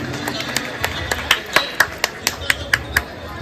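Audience applause at a live music program, a burst of sharp, regular claps spaced about a quarter second apart, fairly close and loud over a steady background hum.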